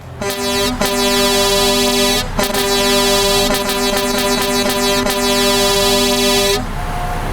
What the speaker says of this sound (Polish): Czekaj, gdzie mam trąbik?